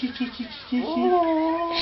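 A cat gives a few short low mews and then a long rising, wavering meow, close and loud, with voices around it.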